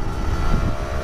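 A Kawasaki Ninja two-stroke 150cc motorcycle engine revs loudly and up close, a continuous buzzing drone that holds steady for about a second.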